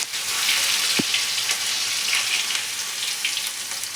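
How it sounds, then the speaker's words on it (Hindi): Crushed garlic and ginger dropped into hot oil with cumin and asafoetida for a pyaj lahsun kadhi, giving a loud, steady close sizzle and crackle with a brief clank partway through. "अब जो हमने लहसुन और अदरक कूटा था बारीक, उसी में हम डाल देंगे इसको।"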